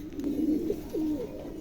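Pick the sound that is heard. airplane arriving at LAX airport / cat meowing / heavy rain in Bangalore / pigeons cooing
pigeons cooing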